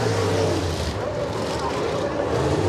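Super late model race cars at full speed on the Old Bradford Speedway oval, a steady loud engine roar filling the whole stretch with shifting pitch, with a voice talking over it.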